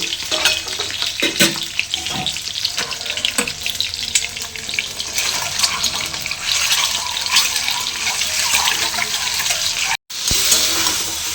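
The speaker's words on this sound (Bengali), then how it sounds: "তেল গরম করে ডিমটা লাল করে ভেজে নিই।" Egg frying in hot oil in a home kitchen, a loud, continuous sizzle and crackle close by with occasional clicks and no talk.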